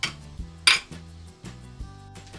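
Ceramic bowls clink and knock together several times in quick succession, close by, with one sharper ring standing out.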